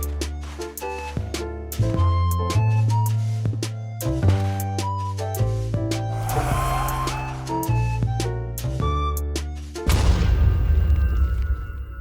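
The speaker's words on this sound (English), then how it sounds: "I forgot withers exploded when you spawn them in" A wither spawning in the Minecraft video game sets off a loud, booming explosion near the end, following a stretch of melodic game music.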